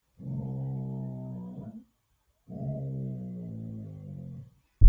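A loud dog gives two long, drawn-out growling howls, close and strong, separated by a short pause, followed by a sudden low thump at the end.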